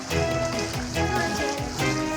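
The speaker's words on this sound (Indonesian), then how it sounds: "Hujan deras menyebabkan tanggul sungai jebol merendam ratusan rumah warga" Heavy rain pouring during a flood in Sidoarjo, a steady dense hiss of water on surfaces that continues throughout with no break, fairly loud, with no voices.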